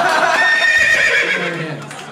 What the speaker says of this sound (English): Play the horse of truth!